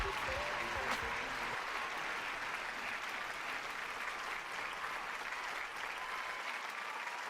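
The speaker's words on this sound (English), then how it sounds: "Let's give him a round of applause, ladies and gentlemen." Sustained audience applause at a cosplay masquerade, a dense wash of clapping that holds steady and loud for several seconds with no voices standing out.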